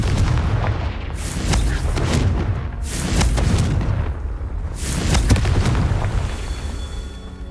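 Confringo fire-blast spell explosions in Hogwarts Legacy on Xbox Series X: a loud, continuous run of booming, crackling blasts with several heavy impacts across the whole stretch.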